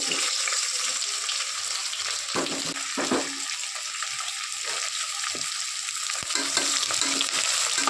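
Onions and whole spices fry in a pan for vegetable biryani, a continuous bright hiss of sizzling oil punctuated by a few dull stirring scrapes, close and fairly steady, with no voices.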